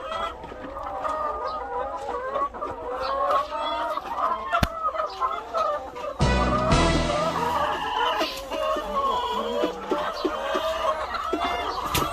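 Hens clucking steadily in a laying coop on a small farm, several birds close by with overlapping calls throughout and a brief louder burst midway.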